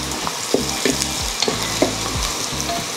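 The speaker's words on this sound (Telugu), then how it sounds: "వంట బాగానే చేసేస్తున్నారు, గరిటె బాగానే తిప్పేస్తున్నారు." A Geek Robocook cooker stirs and fries food in a pan, its utensil scraping and knocking in a regular rhythm over a constant, close, loud sizzle.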